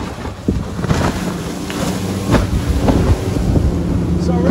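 A Yellowfin 6500 hardtop boat running through choppy half-metre water in about 15 knots of wind on Port Phillip Bay, with continuous engine drone, hull slaps and splashes, and heavy wind buffeting the microphone.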